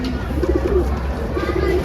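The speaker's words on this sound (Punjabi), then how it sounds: "ਇਹ ਲਾਲ ਚੀਨਾ ਕਬੂਤਰ ਹੈ" Soft, low coos from a red Chinese pigeon repeat in short rolling bursts over a steady background rumble, fairly close and moderately loud.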